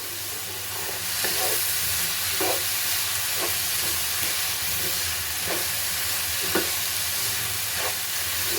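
A spoon stirs a red beetroot and coconut mixture with sugar in a pan, scraping steadily at roughly one-second intervals over a continuous low sizzle, with no talking.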